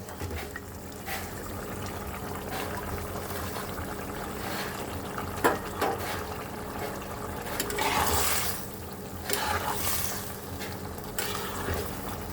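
Tengra fish chochchori bubbling steadily in an open pan after spice powder is stirred in, a continuous wet simmering with small pops throughout.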